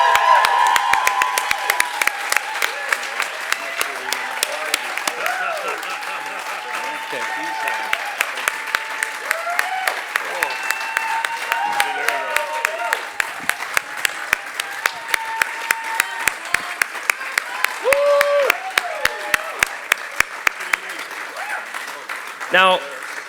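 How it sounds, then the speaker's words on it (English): A premiere audience gives a long, loud round of applause for firefighters, dense clapping sustained for over twenty seconds with scattered cheers and voices rising within the crowd. "could we get one round of applause here for our firefighters here tonight?"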